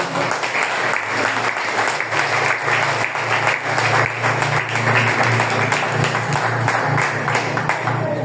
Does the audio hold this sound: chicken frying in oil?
no